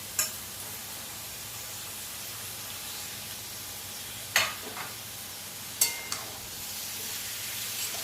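Chopped cabbage frying in a pan with a steady, soft sizzle, broken by a few sharp scraping stirs of a utensil against the pan midway and near the end; no talking.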